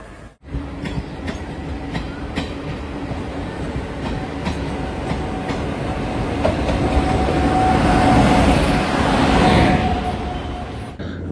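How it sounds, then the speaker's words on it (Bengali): Inside the moving Tinsukia Express, a continuous rumbling rattle with rhythmic clickety-clack of wheels over rail joints swells slightly louder toward the end, with no talking. "বুঝতেই পারছেন ট্রেনের ভেতরে আমরা"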